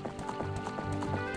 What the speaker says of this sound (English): I'm moving pretty fast on this horse.